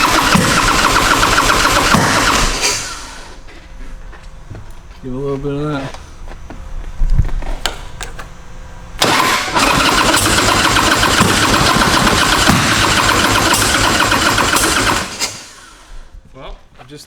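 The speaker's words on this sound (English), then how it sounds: "That's a good way to start a motorcycle." A 2000 Harley-Davidson Fat Boy motorcycle engine cranks, catches and roars into a loud, rough idle, cuts out, then restarts and idles heavily again at close range, with someone speaking briefly between runs.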